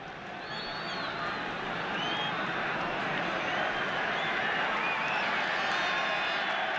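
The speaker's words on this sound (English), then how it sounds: "The cheer, meanwhile, is for Niall Quinn, who's just left the bench." Football crowd at a 1987 Republic of Ireland versus Bulgaria match roaring and cheering as Niall Quinn leaves the bench, a broad sustained swell of noise building and holding, with whistles faintly above it.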